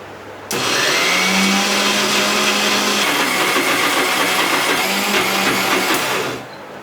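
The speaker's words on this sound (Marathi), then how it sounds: "आता आपण उडदाची डाळ मिक्सरला लावून घेऊया।" A mixer grinder motor runs loudly and steadily for about six seconds, grinding urad dal with two green chillies, ginger pieces and garlic without water, then winds down at the end.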